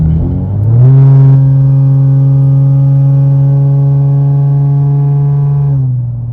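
A Lexus IS driving with a steady engine drone that climbs in pitch, holds for several seconds, then drops away as it shifts, loud and close.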